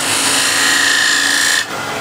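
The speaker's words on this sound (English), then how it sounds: "using the spindle gouge to get the foot nice and clean" A spindle gouge cuts a wooden foot spinning on a lathe, giving a steady, close, loud hiss with a thin whine that stops abruptly near the end, leaving quieter workshop noise.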